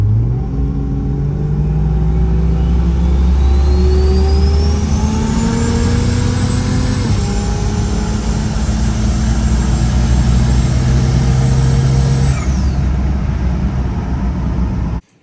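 Recorded from inside a moving Jeep, a steady engine drone runs throughout as it accelerates, with the pitch rising and then easing off around a gear change; a high whine tracks the engine until it cuts out near the end.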